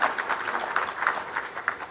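Audience applause for an Angolan embassy diplomat at a Kenya School of Government centenary ceremony, a steady patter of many hands clapping throughout at moderate volume.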